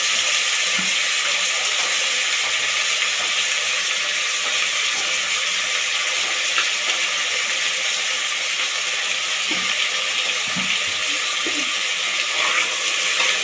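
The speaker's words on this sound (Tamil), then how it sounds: "காய் தக்காளி எல்லாம் ஓரளவுக்கு வதங்கட்டும்" Vegetables and chopped tomatoes with salt sauté in a pan for vegetable biryani, giving a steady, close sizzle with hissing steam throughout and a few soft stirring clicks, no voices.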